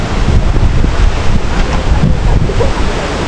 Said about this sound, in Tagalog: Kusog kayo ang hangin diri